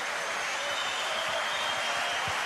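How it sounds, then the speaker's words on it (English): A snooker crowd gives Judd Trump a sustained ovation after he wins the European Masters semifinal, dense steady applause filling the arena from start to finish. "And listen to the ovation. The crowd loved that."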